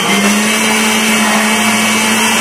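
A blender runs at full power, whirring loudly and steadily close by as it mixes thick milk, two bananas and sugar for a Sharjah shake, its motor holding a constant high-pitched hum.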